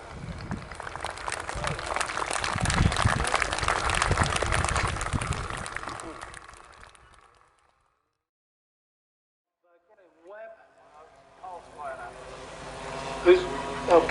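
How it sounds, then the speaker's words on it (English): At the Woodspring Wings Model Air Show 2022, an outdoor crowd gives a steady round of applause for several seconds that fades into silence, before talk and background noise return. "I'm sure you'll reward Steve Flying with this round of applause"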